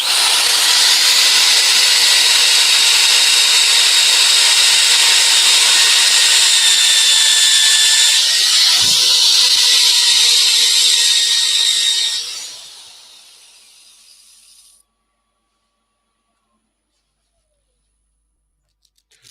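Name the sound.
power sander sanding yew wood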